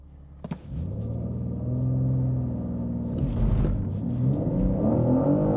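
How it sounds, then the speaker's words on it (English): A BMW M2 launches hard, its engine note climbing loud and close through the gears with tyre wheel spin, a rising rumbling roar that keeps building, and no voices. "Oh, lots of wheel spin."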